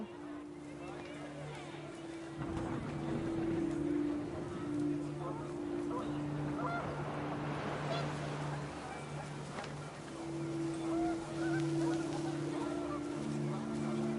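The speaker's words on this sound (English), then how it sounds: "The wind picked up, and panicked geese appeared and quickly went." Panicked geese honking in a video game as wind picks up, a few harsh nasal honks over a low steady drone, moderately faint, with brief surges of noise.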